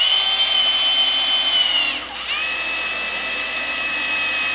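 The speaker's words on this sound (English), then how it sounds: "I'm going to drill a hole in the sheet metal like so." A power drill bores a hole through sheet metal with a loud, steady high-pitched whine that dips briefly partway through, then resumes at a constant pitch; nobody speaks.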